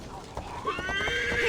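A horse in Assassin's Creed Valhalla gives a rising, quavering whinny over scattered hoof clops, fairly close and loud within the game's background sound.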